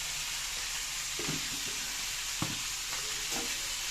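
Veg chowmein frying in a pan gives a steady sizzle throughout, with a few soft scraping stirs and one brief knock of the utensil against the pan.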